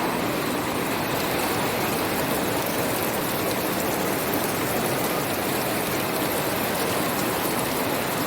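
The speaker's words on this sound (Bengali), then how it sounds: "দেখাচ্ছি সেরকম বৃষ্টি শুরু হয়েছে।" Heavy rain pours down in a loud, steady hiss, dense and unbroken for the whole stretch, with no voices.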